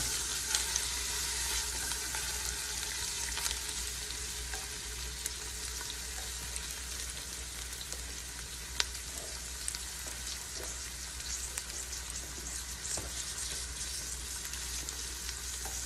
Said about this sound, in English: Add in our onions. Let those cook down.